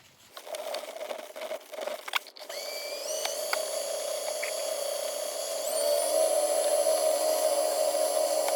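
A wooden bottle opener spins on a woodturning lathe while being buffed, a steady whirring hum with thin high whines, briefly interrupted by a few sharp scrapes early on, then running smooth and continuous and slightly louder toward the end.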